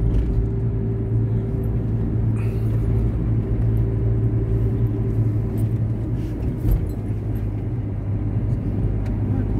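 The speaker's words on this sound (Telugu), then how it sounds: "40 దాటుతున్నాము అంటే మనం 4th గేర్ వేస్తాము." A car drives along a road as the driver moves up into fourth gear past about 40, its steady engine rumble and road noise continuous and fairly loud throughout.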